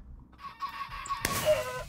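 Blocky, synthetic chicken clucks from the Minecraft Mineplex minigame, a short run of close, clipped game-sound clucks followed by a sharper squawk, heard alone with no talking.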